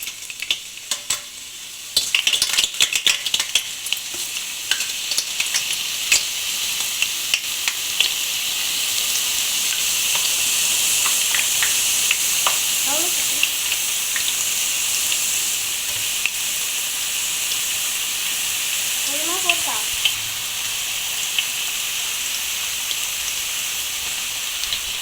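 Potato slices for homemade chips drop into hot oil and set off a loud, continuous sizzle, with a few sharp splashes and clinks of a utensil early on and occasional stirring scrapes.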